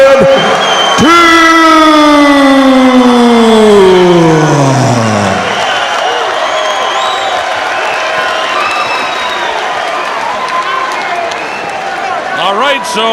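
Boxing crowd in Auckland roaring and cheering for David Tua's ring entrance, a loud sustained arena din with whoops and applause after an announcer's long drawn-out call, voices carrying over the noise.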